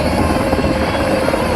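A Sikorsky MH-60R Seahawk helicopter flies a display at the Wings Over Illawarra 2021 air show, its loud, continuous rotor and engine drone close and steady throughout, with no talk.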